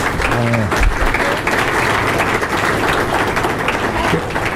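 Audience applause at a historical society talk, a dense, loud wash of clapping from a room of listeners, steady for several seconds with a brief low murmur near the start.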